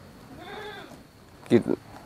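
A goat gives two short, loud bleats close by near the end, after a quieter stretch of faint background murmur.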